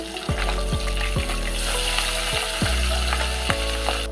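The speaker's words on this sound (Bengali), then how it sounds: "মাছটা ভাজা হয়ে গেছে" Pabda fish frying in hot oil in a wok, a loud continuous close sizzle with periodic low thumps and scrapes as the fish is moved or turned.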